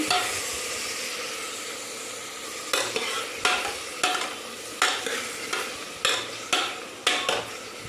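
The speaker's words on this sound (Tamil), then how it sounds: "அதை குக்கரில் போட்டுருங்க. நல்லா வதக்கி விடுங்க." Mutton sautéing and sizzling in a pressure cooker for kulambu, with a steady fry hiss and a rhythmic series of spoon scrapes and stirs against the pot growing regular in the second half.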